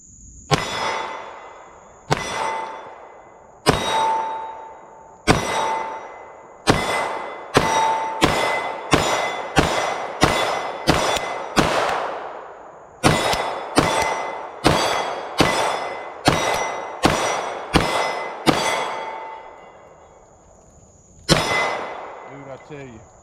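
A Canik Rival SFx Dark pistol fires about twenty evenly spaced shots at a range, each a sharp loud crack followed by the bright ring of a steel target. One last shot comes after a pause.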